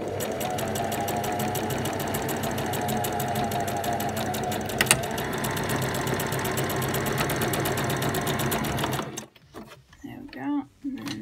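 A sewing machine stitches a denim dress with bell sleeves, running in a fast, even, close mechanical chatter for about nine seconds. It then stops, and a few quieter handling sounds follow.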